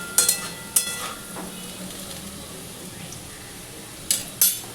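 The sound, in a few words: potatoes frying in a pan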